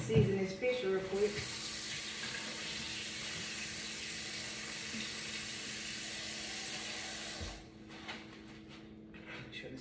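Water runs steadily from a kitchen tap into a sink for several seconds, a continuous hiss with a few clatters at the start, then cuts off near the end.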